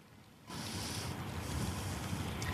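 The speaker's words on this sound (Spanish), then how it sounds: "Abimael, aquí continuamos justamente sintiendo eh, sobre todo se podría decir una brisa bastante fuerte y nieve que continúa cayendo" Strong wind roars steadily during a snowstorm in Hartford, a broad gusty rush that starts abruptly after a brief quiet moment and then holds loud and continuous with no talking.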